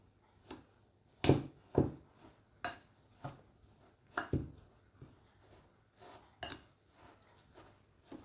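Hot semolina being stirred with butter in a bowl for a Sri Lankan love cake, a series of irregular spoon taps and scrapes against the bowl, some louder clinks among softer ones, fairly close and quiet.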